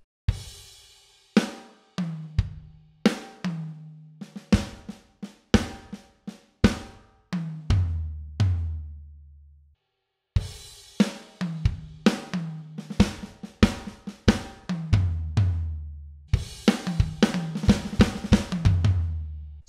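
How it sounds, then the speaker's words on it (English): A drum kit plays the triplet fill from a song at a slow tempo, with separate snare and tom hits stepping down in pitch, then a brief pause before the pattern repeats, loud and close with no talking. "Let me play it really slowly so you can start to get your head around it."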